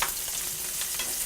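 Meatballs simmer and fry in a hot pan, a dense continuous sizzle close up and fairly loud, with no voices over it.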